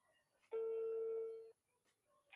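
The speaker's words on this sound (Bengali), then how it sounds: "তার আগে আমি একজনকে একটা ফোন দিই" A single steady electronic tone sounds for about a second as a phone call is placed, clean and fairly quiet, followed by faint background noise and a brief higher blip.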